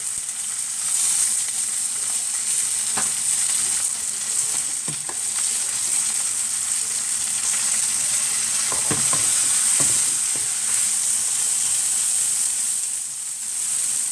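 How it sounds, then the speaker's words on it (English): Mustard chicken browns in olive oil in a hot pan, giving a loud, steady sizzle and hiss that runs throughout, with a few brief clinks and stirring knocks along the way. "It browns to the point where it's almost burning."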